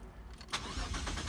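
A third-generation Mitsubishi Eclipse V6 with a replaced idle air control valve cranks briefly and catches, settling into a close, steady idle rumble.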